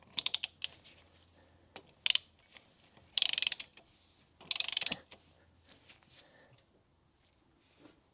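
A torque wrench tightening the timing pulley bolt on a Citroen Peugeot 1.6 HDi 16v diesel engine: quiet, sparse ratcheting clicks with a few loud bursts of rapid ratchet clatter, with pauses between.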